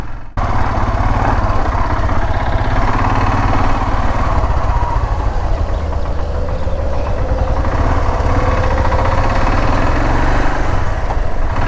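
A motorcycle ridden on the road in rain, picked up by a helmet-mounted GoPro mic, with a loud, continuous low engine drone and rushing wind throughout.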